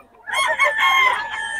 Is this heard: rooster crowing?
yes